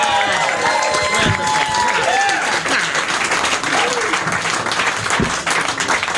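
A comedy show audience at a street jokes night applauds loudly and cheers in a dense, steady roar of clapping with whoops, lasting the whole stretch, with a few voices calling out over it.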